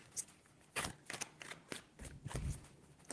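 A deck of tarot cards is shuffled in quick papery riffles and flutters, several bursts in a row, soft and close in a quiet room.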